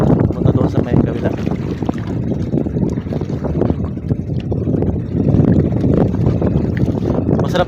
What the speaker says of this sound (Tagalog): Ang sarap sa pakiramdam, mahangin.